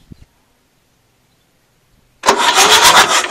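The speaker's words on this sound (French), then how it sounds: "juste un coup de démarreur pour voir si au niveau de la poulie, tout va bien" A tractor engine is cranked on the starter after a crankshaft seal replacement and catches at once, a sudden loud chugging roar that fills the second half of the clip after a near-silent lead-in with a faint click.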